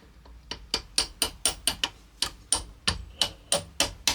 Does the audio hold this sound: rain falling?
no